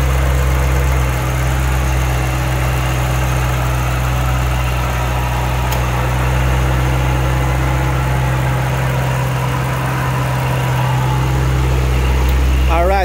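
A supercharged 2005 Ford Mustang Saleen S281 engine idles steadily with a deep, even rumble and slight vibration, loud and close, holding constant throughout.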